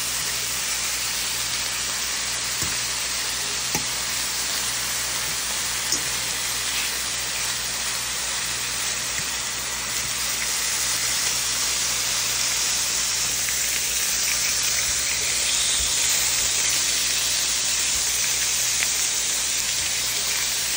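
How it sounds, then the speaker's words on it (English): Beef pieces searing in a hot pan for beef stroganoff give off a loud, steady, hissing sizzle that holds unbroken from start to finish, with a few faint knocks. "we are gonna put them over, make them nice and seared on both sides"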